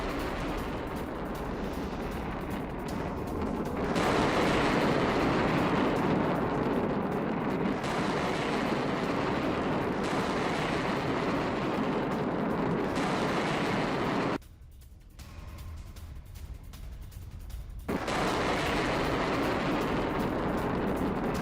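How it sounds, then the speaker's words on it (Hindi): Heavy bombardment of a US base in Kuwait during a missile attack, with sustained loud rumbling blasts and roaring fire filling the scene, a brief quieter lull in the middle before the dense, booming barrage returns. "ईरान ने जारी किया मिसाइल हमले का वीडियो"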